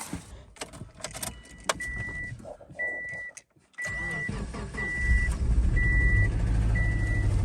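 Keys jangle and a series of evenly spaced warning chimes sound in a 2007 Subaru Forester. After a brief silence its engine cranks, catches and settles into a loud, close, steady run. The engine is being pulled for a teardown after a failure.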